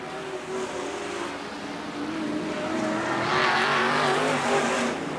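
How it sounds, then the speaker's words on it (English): A race car engine with a leaky header roars past on a speedway, loud and raspy with a rough, uneven rattle in its note like a 4-cylinder, growing louder toward the end. "sounds like he's got a 4-cylinder engine, but I believe it's just a leaky header"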